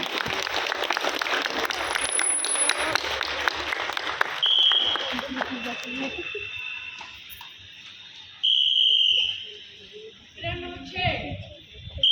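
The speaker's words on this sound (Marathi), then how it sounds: "जोरदार टाळ्या" Loud clapping from a crowd at an Independence Day school event fills the first few seconds, then fades. Whistle-like tones and voices follow.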